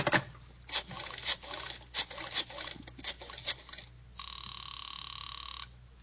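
A series of quick clicking dial sounds is followed by a steady electronic ringing tone, fairly faint and close, with no voices.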